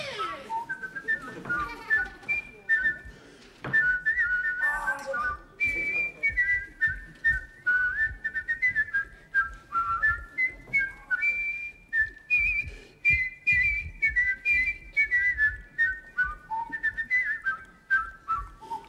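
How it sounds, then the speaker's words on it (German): A man whistles in two voices at once, two intertwined melodic lines in a lively rhythmic tune, clear and close, running steadily for nearly twenty seconds with brief breath pauses. "der in der Lage war, zweistimmig zu pfeifen"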